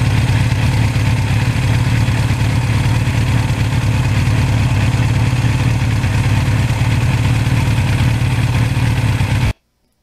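A 1982 Suzuki GS1100E motorcycle engine drones steadily and loudly at a constant pace while riding on back roads for nearly ten seconds, then cuts off abruptly into silence.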